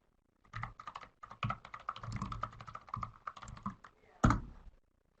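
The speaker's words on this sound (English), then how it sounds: "So I typed mine in." Rapid typing on a computer keyboard, dense bursts of clicks close to the mic in a quiet room, ending with one heavier key strike.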